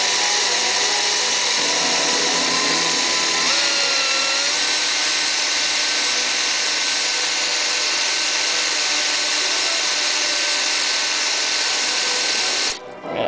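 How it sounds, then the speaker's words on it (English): A power drill whines steadily and loudly, its pitch shifting slightly as the bit bores into brass, then cutting off abruptly at the end. "After drilling for a bit"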